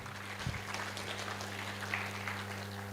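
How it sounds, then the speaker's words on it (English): An audience at a tech conference in Nairobi claps for a speaker, a moderate, even spread of clapping over a steady low electrical hum from the hall's sound system. "Please clap for Sajjan again."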